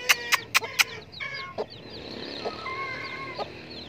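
A hen clucks in a quick burst of sharp notes, then softer murmuring clucks and chirps follow nearby, with no talking.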